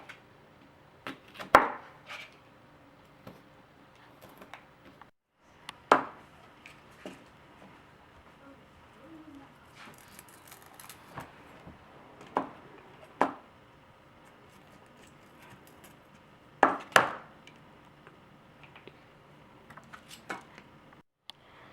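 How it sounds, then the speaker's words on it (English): A knife chops jalapenos on a cutting board for homemade chili, giving sparse, sharp knocks that come at irregular intervals and are spaced several seconds apart. They sound close but fairly quiet over a low room hush. "I'm going to get started on my jalapenos. Don't cut them too big, but cut them just right."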